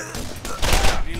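Machine pistol gunfire in a video game: a short, loud, continuous burst of rapid shots with a dense low-end boom.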